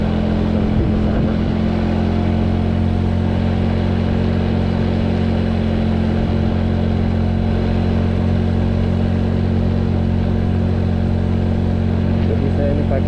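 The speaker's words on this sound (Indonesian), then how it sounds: "Jadi saya ini pakai motor matic ya, jadi lumayan agak berat teman-teman." Automatic scooter motorcycle climbing a steep uphill village road in Aceh Besar, its engine droning steadily and close throughout under a rumble of wind noise, with a voice speaking over it.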